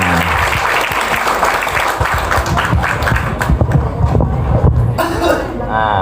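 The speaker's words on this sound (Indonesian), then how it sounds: "tepuk tangan." An audience at a gathering of Islamic boarding school students claps loudly and steadily for several seconds, the dense applause thinning toward the end, with voices mixed in.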